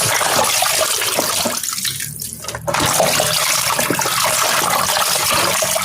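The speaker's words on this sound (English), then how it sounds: "let's rinse this off. Pour off the water." Tap water runs hard and close as food, turkey for a stew, is rinsed under it, a steady splashing rush with a brief dip partway through before the flow resumes, with no voices.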